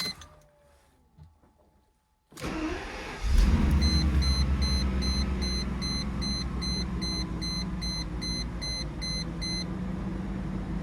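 A soft-top convertible that has sat unused since midwinter is cold-started: after near silence the starter cranks briefly, the engine catches with a loud burst and settles into a steady idle while a repeating electronic chime beeps over it.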